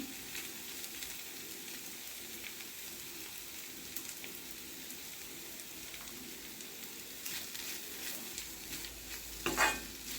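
Samosa filling of potatoes and peas sautéing in a pan, a steady rain-like sizzle with faint stirring scrapes and a brief metallic clink near the end, close and without talk.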